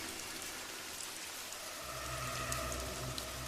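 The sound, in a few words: heavy rain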